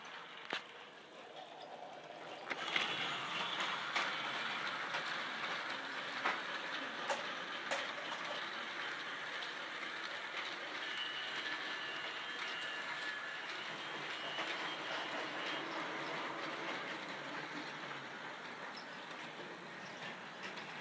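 A knockoff "Peking Duck" model train runs along the track pulling cars, giving a steady quiet rolling rumble with faint clicking wheels throughout. The sound carries on alone, with no voices.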